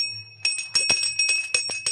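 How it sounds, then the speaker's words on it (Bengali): A small brass prayer bell rings rapidly in a home shrine to wake a deity idol, about a dozen bright, close metallic strikes in quick succession with clear sustained tones. "ঘন্টাটা বাজাও"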